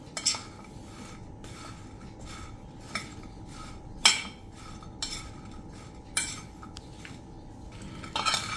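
A metal spoon scrapes and clinks against a bowl several times at an irregular rhythm while mixing turmeric and spices for raw mango pickle, close and fairly quiet with no talking.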